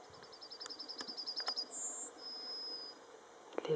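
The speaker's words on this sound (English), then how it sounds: "This is a yellowhammer." A yellowhammer sings a quick run of repeated thin chirps that ends in a longer drawn-out note, fairly faint against a quiet outdoor background.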